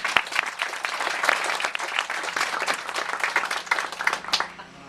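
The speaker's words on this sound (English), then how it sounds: "Would you give them all a round of applause one more time?" A dedication ceremony crowd gives a round of applause to a helpful board: brisk, lively clapping from many hands, fairly close and steady, tapering off in the final moment.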